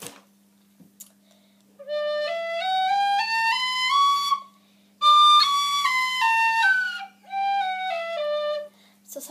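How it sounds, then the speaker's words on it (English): A tin whistle plays a slow stepped scale, climbing note by note, then, after a short pause, descending in clear sustained tones, close and alone with a steady low hum underneath. "Now we're going to start with the tin whistle."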